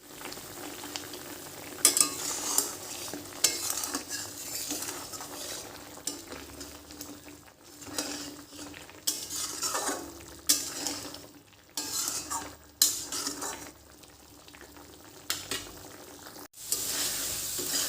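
Ginger, onion, green chili and garlic pastes fry and sizzle in a pan, stirred with a utensil that clinks and scrapes against the metal now and then, a steady close sizzle broken by brief pauses.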